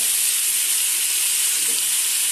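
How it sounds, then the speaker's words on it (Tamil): Onions sauté with salt in a pan for prawn biryani, giving off a steady, even sizzling hiss that stays constant and close throughout. "இப்போ இந்த வெங்காயம் நல்லா வதங்கி பொன்னிறமாக வரட்டும்"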